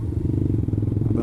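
Dirt bikes, Kawasaki KLX and Honda CRF, riding nearby on the streets of Makassar, their engines giving a steady, close, low rumbling drone with a faint rhythmic clatter throughout.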